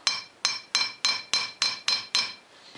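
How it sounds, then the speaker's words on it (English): Eight sharp, evenly spaced metallic hammer taps on a Polaris ATV rear axle bearing carrier, each bright ringing strike close and distinct, slowing and fading slightly at the end. "You just got to tap this thing off."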